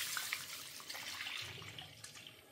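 Milk is poured into a slow cooker over rice and sugar, a steady close splashing trickle of liquid running for a couple of seconds at low level, with no talking.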